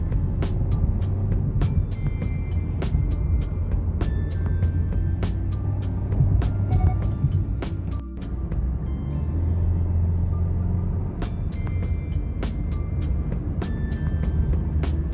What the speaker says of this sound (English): Now let's see how this car really takes off.